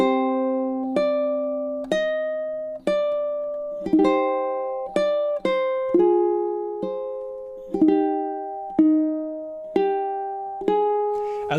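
Ukulele chord melody of the Japanese folk song Sakura, measures 7 to 9, with a partial barre at measure 7: plucked chords struck one by one at a slow, even pace, each ringing and decaying before the next, played alone and close.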